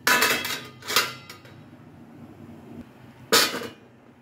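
Three sharp metallic clatters of vegetables dropping into a metal steamer pan on a stove, close and distinct, with quiet pauses between them.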